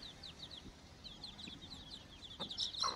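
A tall multicolored hen with chicks clucks in a steady run of soft, quick calls, close by and fairly quiet, ending in a slightly louder squawk, with no talking.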